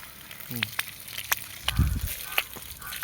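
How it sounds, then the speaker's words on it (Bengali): Water splashes over a vegetable field with brinjal and bitter gourd plants, making a close hissing spray with scattered splashes and one dull thump midway, while a voice murmurs faintly. "আর এই জমিতে জল দেওয়া হচ্ছে"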